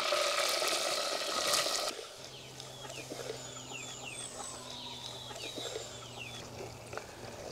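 Onions dropped into hot oil for mutton kheema on an outdoor farm kitchen, giving a loud burst of sizzling that settles into a softer steady frying hiss, with chickens clucking nearby in the background.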